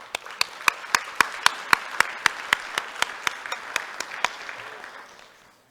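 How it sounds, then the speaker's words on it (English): Sparse applause at a Rotary club meeting: a few people clap in distinct, evenly spaced sharp claps that soften and trail off into silence after about five seconds. "How about we give them all a round of applause?"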